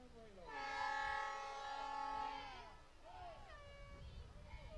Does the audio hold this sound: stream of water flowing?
no